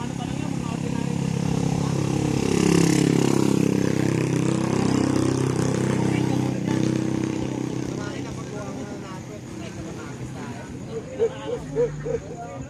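An ordinary motorcycle engine runs with a steady mid-pitched drone that swells loudest early on and then eases off, leaving a few faint sputters near the end.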